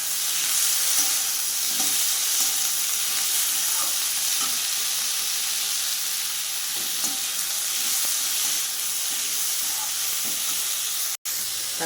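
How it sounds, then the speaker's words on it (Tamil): Tomatoes, curry leaves and coriander sautéing in a pan for perandai thuvayal, a steady close sizzle and hiss running throughout with faint intermittent scraping of a stirring utensil. "தக்காளி நல்லா வதங்கிடுச்சு."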